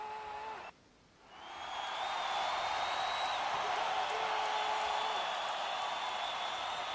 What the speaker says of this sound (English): As Robin sits here is getting the crowd riled up.